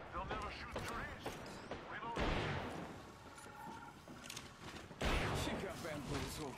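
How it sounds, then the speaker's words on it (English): Gunfire in the battle royale game Apex Legends, loud bursts of automatic fire in rapid volleys with bangs and thuds, heard under a voice talking over the action. "Shots fired and they're hitting me"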